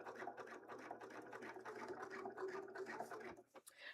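A home sewing machine stitches over a pocket on a Link cosplay costume, a faint, steady motor hum with fine needle chatter running for several seconds before cutting out.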